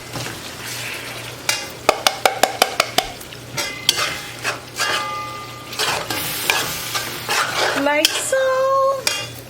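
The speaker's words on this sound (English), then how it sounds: "you're just going to dump the whole thing into your pot" A pigeon peas mixture with coconut milk tips into a hot pot and sizzles, with a run of sharp utensil clacks and scraping stirs against the pot, loud and close; a voice speaks briefly.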